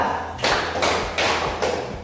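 Students in a classroom clap together on command during an ice-breaker, three loud, sharp group claps spaced evenly with no talking over them.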